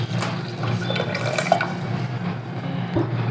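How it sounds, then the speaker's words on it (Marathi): Water pouring steadily into a pot holding cooked chicken for biryani rice, a continuous close splashing stream with a faint clink near the end, no voices. "आपल्याला जेवढा भात बनवायचा तेवढं पाणी घालून घ्या."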